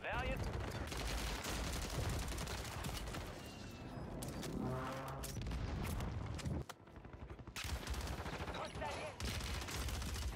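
Bursts of gunfire in the Call of Duty Warzone battle royale on Rebirth Island keep up nearly without pause, loud and close. Booming shots and rapid automatic volleys overlap, and a player's voice talks over them.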